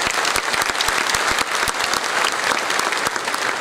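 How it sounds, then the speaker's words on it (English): A large audience applauds an Indian Navy band as the performers stand, with loud, dense clapping and distinct sharp individual claps throughout. "may I request you to just give them a huge round of applause as they stand up"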